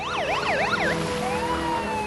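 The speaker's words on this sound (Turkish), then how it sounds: "Polis arabası yardım etmeye gidiyor." A police siren wails in rapid rising and falling sweeps, loud and close, then shifts to a steadier tone over traffic noise.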